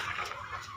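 An Aseel rooster on a farm that also keeps rabbits gives a brief, close clucking call, short and alone without talk.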